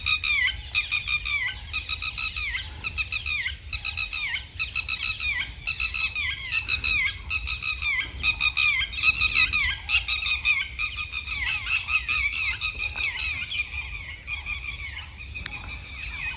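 Birds chirp and squeak in a green field being cleared for work, a dense, steady chorus of high, repeated calls filling the whole stretch, loud and close with no talking.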